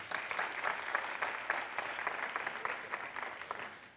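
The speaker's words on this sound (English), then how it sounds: "I think you deserve applause." Town hall audience applauding steadily, a dense wash of many hands clapping at moderate distance that carries evenly for several seconds before tapering slightly at the end.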